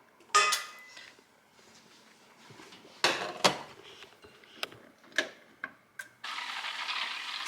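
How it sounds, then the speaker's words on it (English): A light-colored pan is handled in a kitchen. Metallic clanks and knocks sound in an irregular scatter, some sharper and louder than others, and a steady hiss sets in near the end. "we're gonna brown our butter in a light colored pan"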